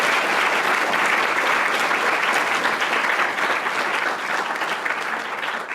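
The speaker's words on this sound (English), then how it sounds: "can we please just give them another big round of applause?" Sustained applause from a panel audience at an event on DACA policy, a dense, steady wash of clapping throughout that fades slightly toward the end, with no speech over it.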